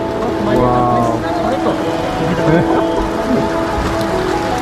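Steady rain hisses throughout near a Buddhist temple on the road from Guwahati to Gangtok, with voices talking over it and a low rumble underneath.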